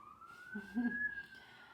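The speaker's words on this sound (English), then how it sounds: "There's a siren." A police-style siren wailing outside, one rising and falling tone that is fairly faint and distant, with a low voice murmuring briefly beneath it.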